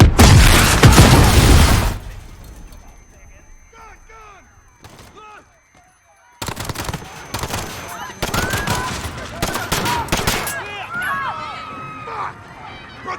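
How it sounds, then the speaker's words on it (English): Gunfire and an explosion at Piccadilly Circus in Call of Duty Modern Warfare: a loud burst of heavy shots and a blast at the start, then quieter chatter, then renewed rapid volleys of gunfire. "There's been a detonation at Piccadilly Circus. Shots fired, officers down."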